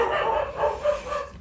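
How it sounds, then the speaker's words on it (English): A dog barks nearby in a few quick, loud, yappy bursts, with no one talking over it. "Excuse the dog's barking."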